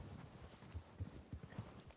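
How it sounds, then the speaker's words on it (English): Horse hooves clip-clopping at a walk in a western video game, a faint steady rhythm of soft thuds, about five distinct hoof strikes over two seconds. "You getting on the horse over there?"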